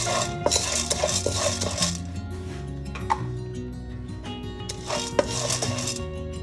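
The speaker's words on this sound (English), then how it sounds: "Remember to keep mixing the Channa Dal because it will catch easily" A utensil stirs chana dal being dry fried in a pan, scraping and clattering against the metal in an uneven rhythm, with brief sharper knocks. The sound is close and continuous, with no talking.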